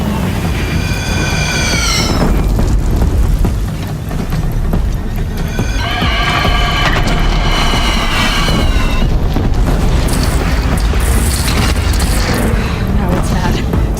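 Cannon fire in the video game Horizon Zero Dawn, loud deep booms rolling under a dense battle mix with shouting voices and high whining tones.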